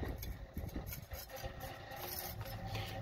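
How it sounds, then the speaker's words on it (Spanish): A tool scraping and rasping as workers cut thick line details into cement facade blocks on a house, giving a close, continuous gritty rubbing with short strokes and no talk. "ahorita lo que está haciendo es cortando ya, haciendo el detalle de las líneas"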